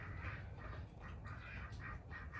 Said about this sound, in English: And you can hear the ducks, too.